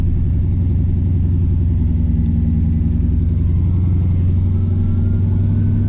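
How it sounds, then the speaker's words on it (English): An LS-swapped car engine drones loud and steady at high revs, a constant close rumble with no talking over it. "it's revving really freaking high"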